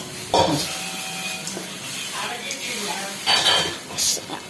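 A spoon stirring and mixing salt through food in a cooking pan, close scraping and clinks over a light sizzle, with a couple of louder metallic knocks.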